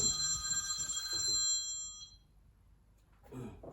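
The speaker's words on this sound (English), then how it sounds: "And that's my phone going" A phone ringtone trills repeatedly with bright electronic tones, fairly loud for about two seconds before cutting off, followed by quiet room noise and a soft rustle.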